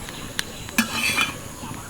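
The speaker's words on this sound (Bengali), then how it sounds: "এই তন্দুরি রুটিটা আমি মাটির উনুনে বানাচ্ছি বলে উল্টে পাল্টে ভেজে নিচ্ছি" Tandoori roti being turned and fried on a clay oven, heard as a low sizzle broken by a few sharp utensil clicks and scrapes, with a louder clatter at the very end.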